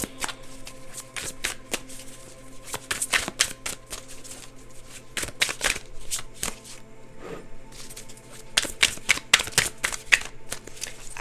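A double deck of tarot cards is shuffled by hand in a steady run of crisp riffles and rapid flutters, close and fairly loud, with short pauses between bursts and no talking.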